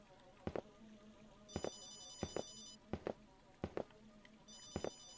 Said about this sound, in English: It sounds like someone's phone is ringing.